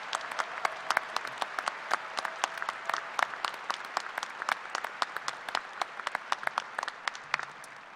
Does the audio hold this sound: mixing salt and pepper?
no